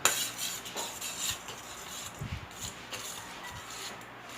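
Pancake batter with baking powder being mixed by hand, utensil scraping and clinking against a bowl in soft, irregular strokes, fairly close and with no talking.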